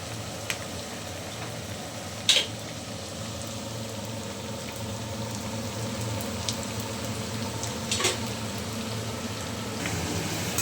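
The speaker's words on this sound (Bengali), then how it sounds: "এই যে বন্ধুরা দেখো আমার আলু কিন্তু মোটামুটি ভাজা হয়ে গেছে" Potatoes frying in a pan for egg chowmein, a soft steady sizzle with faint bubbling and a couple of brief clicks, heard alone without talk.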